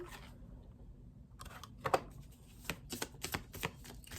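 Crisp papery flicks and soft slaps of tarot cards being shuffled, starting after a quiet second and continuing in irregular bursts, close by.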